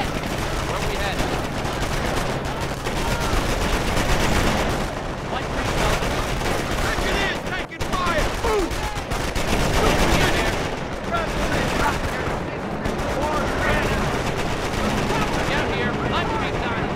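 Ongoing battle gunfire from Company of Heroes, a World War II real-time strategy game: rapid machine-gun bursts and rifle shots mixed with heavier explosive thuds, loud and continuous throughout, with unit voice lines speaking over the combat.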